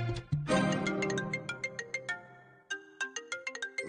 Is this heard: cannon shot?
no